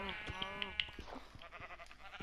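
A sheep bleating in a blocky farming game as it walks into a cave: several wavering bleats close by, with other game sounds in the background.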